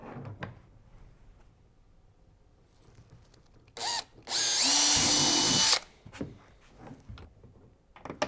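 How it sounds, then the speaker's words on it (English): A power drill whirs briefly, then runs for a longer burst of about two seconds, drilling holes for an H-bar on a Hobie Outback kayak, close by, surrounded by faint handling clatter. "before you drill these holes, square up the bar"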